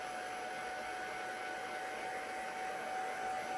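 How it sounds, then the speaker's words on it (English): Steady, even whir of a heat gun on low heat drying ink on a handmade Christmas card, a constant close blowing hum with no talking. "So I'm just using a very light heat from my heat gun."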